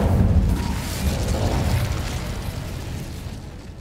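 Incendio fire spell cast in the video game Hogwarts Legacy, a loud whooshing burst of flame that rumbles and crackles before slowly fading over a few seconds, with no talk.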